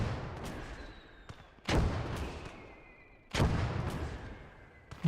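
Heavy artillery booms and gunfire in a World War II Battle of Stalingrad video game, two big blasts with long rumbling decays plus sharper shots between them, fairly distant and steady.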